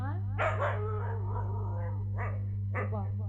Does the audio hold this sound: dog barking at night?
yes